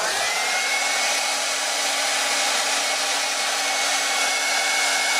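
Hair dryer running with its heating element switched off, a loud, constant close-up fan whine and airy rush that holds steady throughout with no talk.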